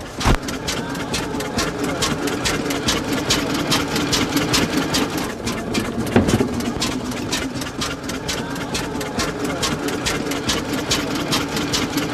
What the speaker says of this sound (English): It doesn't idle much faster than that.